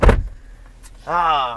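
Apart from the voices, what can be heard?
SUV power running boards retracting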